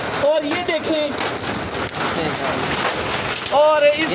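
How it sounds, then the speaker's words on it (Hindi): Heavy rain and hail hammer down in a fierce storm, a dense, steady roar of drops striking surfaces throughout, with brief voices talking near the start and end. "वही ये शोर आपको आ रहा होगा, ऐसा शोर। देखें ओले देखें"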